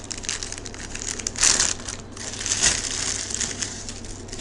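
Plastic bag being torn and crinkled open while unpacking a furniture hardware kit, with two louder crunching rips about a second apart amid steady rustling, close and without talk.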